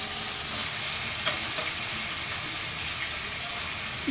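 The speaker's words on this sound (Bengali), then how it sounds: "চিকেনগুলো এমনি কষিয়ে নেবো" Chicken pieces sauté in a pan with a constant hiss of sizzling oil, and a few faint taps of stirring rise above the steady frying.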